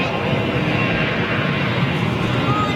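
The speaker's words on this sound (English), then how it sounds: "Now this is a CFM 56 power plant." A jet airliner powered by CFM56 engines at Dusseldorf airport gives a continuous broadband roar, steady and fairly loud, heard from a distance across the airfield.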